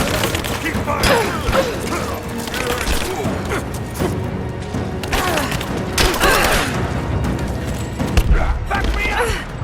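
Gunfire from the video game Rise of the Tomb Raider: dense, continuous bursts of shots and impacts run throughout, loud and busy, with mechanical clatter mixed in.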